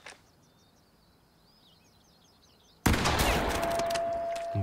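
A gunshot in The Quarry video game: quiet birdsong chirps in the background, then a single loud, sharp shot cracks out. A long ringing reverberation follows and slowly decays.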